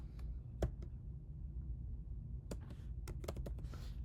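Someone types on a computer keyboard at a desk: a few scattered keystrokes, a pause, then a quick cluster of clicking taps, all faint and close.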